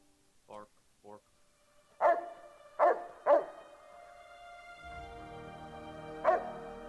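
Dog barking in the game Fallout New Vegas: several sharp barks spaced apart, a couple of softer yips first, then three loud barks and a final one over a steady background hum.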